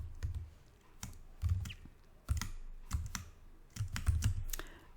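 Computer keyboard typing in several quick bursts of clicking keystrokes, close and fairly loud, with short pauses between bursts and no voice.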